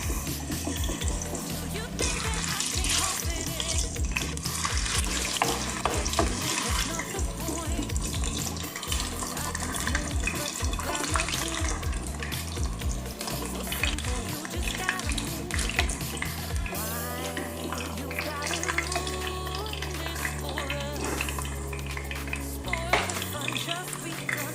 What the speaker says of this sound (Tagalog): iprito muna natin ang ating patatas